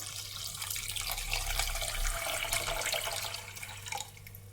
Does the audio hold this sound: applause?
no